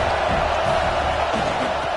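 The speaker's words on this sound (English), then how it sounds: "This crowd trying to make life miserable for this offense." Stadium crowd at a college football game, a loud, dense, continuous roar of cheering and noise filling the whole stretch with no break.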